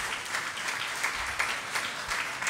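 Crowd applause at an outdoor political rally, a steady dense wash of many hands clapping throughout, fairly distant, with no voices rising above it.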